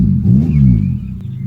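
A boxy new car's engine revs up with a deep, rumbling, rising drone, then settles back to a steady low idle. It is close and fairly loud, with no voices.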